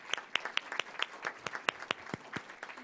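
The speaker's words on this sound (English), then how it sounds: "Let's give them a big round of applause and welcome them." Audience applause at a public class event, a burst of sharp claps from a modest crowd, close and irregular, continuing steadily without any voices over it.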